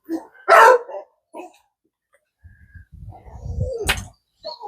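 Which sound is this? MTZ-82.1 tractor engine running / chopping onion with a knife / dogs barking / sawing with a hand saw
dogs barking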